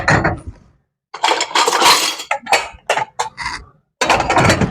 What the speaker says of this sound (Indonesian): Nah ini saya mau rapihin dulu piring-piringnya.